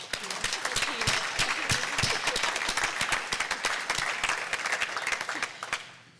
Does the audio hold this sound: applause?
yes